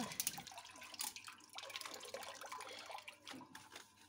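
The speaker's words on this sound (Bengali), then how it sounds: "ধুয়ে শুকাতে দিই এবার।" Tap water runs and splashes in a kitchen sink during washing up, a faint, steady rushing with small clinks and splashes.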